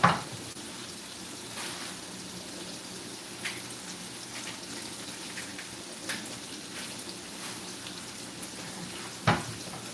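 Onion and cabbage fry in a pan for halušky with ham and bacon, making a soft, steady sizzle with occasional louder crackles and stirring taps, fairly quiet and with no talking.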